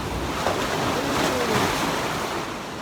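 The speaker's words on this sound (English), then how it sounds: "I'm right here, facing the ocean" Ocean waves wash steadily at the entrance to Avaiki Cave on Niue, a loud continuous roar of surf with wind buffeting the microphone throughout.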